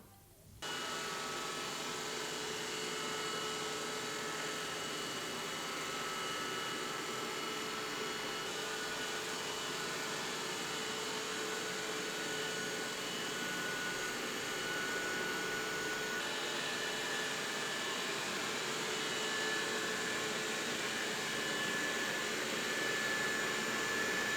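A steady, loud mechanical whir runs continuously, the hum of a Dreame Bot L10 Pro robot vacuum with a high whine, nearby and unchanging throughout.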